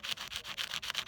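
Close, quiet rapid scraping as the end of a pine nut is sanded for a bracelet, short rhythmic rubbing strokes in quick succession.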